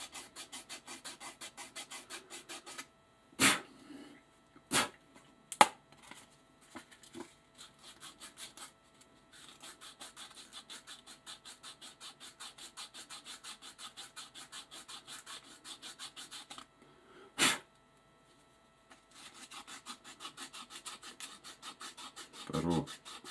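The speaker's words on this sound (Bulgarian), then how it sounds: "Първо се прави кръгово шлайфане с пръс." Circular hand sanding of a plastic kaval flute makes faint, continuous scratchy rubbing strokes with a few sharp knocks in between, heard close and alone.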